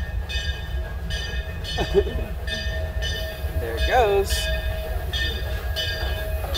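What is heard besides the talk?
train passing at Silver Dollar City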